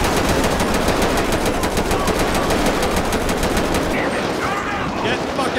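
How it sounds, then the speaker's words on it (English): Rapid automatic gunfire in GTA V with the LSPDFR police mod, a dense loud stream of shots for about four seconds before it thins into scattered noise. "Dispatch, we got shots fired. Shots fired."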